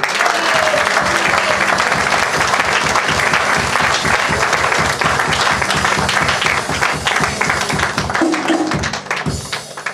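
A church congregation bursts into sustained applause, rhythmic clapping filling the space for several seconds with cheering voices mixed in, loud and dense before thinning slightly at the end.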